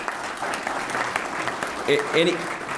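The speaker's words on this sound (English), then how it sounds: "If you guys could give him a round of applause" An audience at a legislative breakfast gathering claps in a warm round of applause for an intern, dense and continuous, with a voice briefly calling out over it toward the end.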